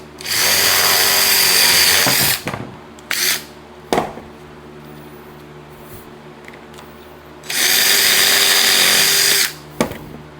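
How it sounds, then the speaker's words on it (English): A power drill whirs loudly in two long bursts while boring a hole into a prop corpse, with short clicks and bumps between the runs. "I think I'm going to drill a hole over here."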